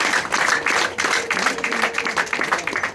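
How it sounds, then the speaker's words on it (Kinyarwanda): Dense audience applause fills a traditional wedding bride-asking ceremony, many hands clapping continuously at close range with no pauses. "Aho ngaho bandiza amashyi bose."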